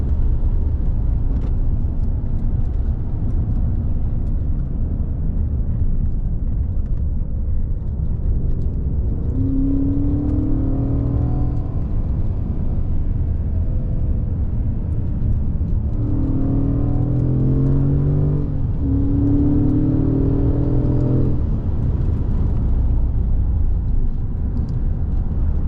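A 2016 Mercedes-Benz S550 Coupe with a Renntech-tuned engine drones steadily from inside the cabin, with engine pitch rising and falling several times as the paddle shifters change gears quickly, all over constant road rumble.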